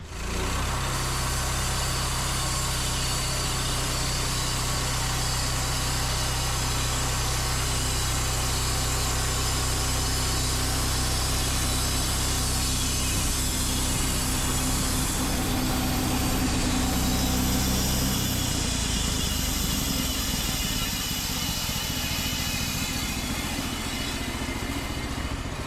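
A portable sawmill's engine drones steadily and loudly throughout a cut through a log, its low hum shifting partway through as the blade works along the log.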